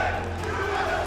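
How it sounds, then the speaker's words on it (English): Loud crowd screaming and cheering at a Yu-Gi-Oh trading card game tournament in Houston, a steady roar of voices filling the whole moment. "I don't know if y'all can hear the screaming crowd over there through our microphones"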